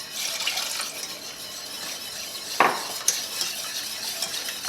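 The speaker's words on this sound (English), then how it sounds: "we're just going to stir this on a medium heat until it starts to simmer" Chicken stock stirred into a blonde roux in a pot over medium heat for poutine gravy, a steady wet swishing broken by a couple of bright spoon clinks against the pot.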